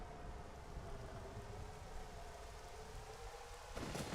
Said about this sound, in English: let's bring a little rain to this desert and fill up the oasis